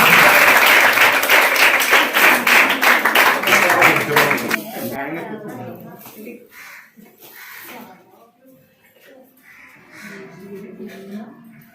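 A loud burst of audience clapping at an ONGC furniture donation event rings out for several seconds, then cuts off into quieter scattered sounds and a speaking voice.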